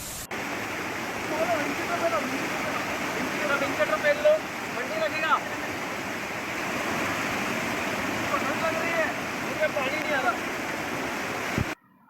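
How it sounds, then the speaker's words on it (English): Steady rushing water from a waterfall on a monsoon trek near Matheran, India, fills the scene, a constant broadband roar with faint intermittent sounds over it, continuous until it cuts off. "I could hear a beautiful waterfall."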